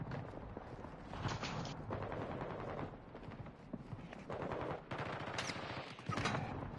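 Rapid bursts of video game gunfire with machine-gun rattles and single shots, fairly loud and continuous across the stretch, with brief dips between volleys.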